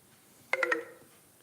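A mobile phone gives a short burst of electronic tones: three quick, close beeps lasting about a quarter second, fairly quiet over a hushed indoor room with no talking.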